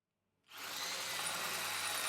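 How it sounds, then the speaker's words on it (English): An electric drill boring a hole while building a Sweet Pea steam locomotive starts up from silence into a loud, steady high whine that holds as the bit works under pressure. "You can hear by the sound it makes when the clutch is being engaged by putting too much pressure on the drill bit and the drill bit grabbing in the hole."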